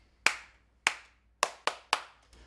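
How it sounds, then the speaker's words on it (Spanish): Single sharp hand claps ring out one at a time in a quiet room, six spaced strikes with a quicker pair near the end, each crisp with a short decay, no talking. "los aplausos tienen que ser más largos"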